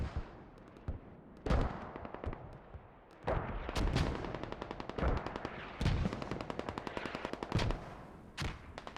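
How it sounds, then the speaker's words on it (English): Heavy mortar barrage in a Squad match, rendered as repeated loud impacts and bursts of rapid automatic fire in clusters, some nearby and sharp, others trailing into echoing rumble. "So heavy mortar barrage is just terrible for them at this point."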